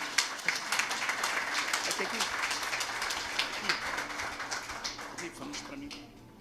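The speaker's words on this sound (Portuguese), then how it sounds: "Dá uma salva de palmas, amém?" A church congregation at an anniversary service gives a round of applause, many hands clapping in a lively, uneven patter that tapers off toward the close.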